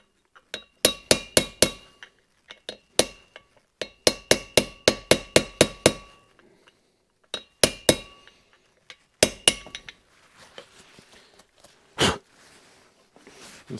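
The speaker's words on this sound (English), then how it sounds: "We'll have to use our drift to get it the rest of the way in here." Sharp metallic hammer strikes on a drift seat a wheel bearing race in the hub of a 1980-1997 Ford F250 or F350, coming in quick close bursts of several ringing blows separated by short pauses, loud and near with no talk.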